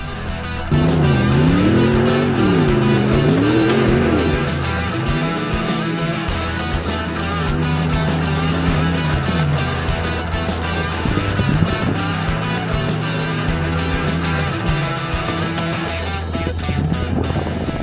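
Ford Raptor truck driving on graded dirt roads, its engine note rising and falling with gear changes and throttle over a steady loud rumble of tires and cabin noise, continuous throughout.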